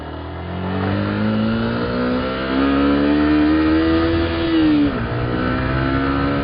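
A car cruises at about 60 to 70 km/h at night, its engine giving a steady loud drone with a rising tone that dips sharply near the end as speed shifts.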